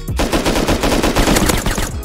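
AK rifle fire in the survival game Rust: a rapid, loud burst of automatic shots in a tight, even rhythm lasting about two seconds, close and unbroken.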